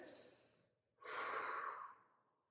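A person warming up for weightlifting takes slow, deep breaths during a stretch, a soft fading exhale followed by a louder, airy breath that swells and tapers off, close and alone.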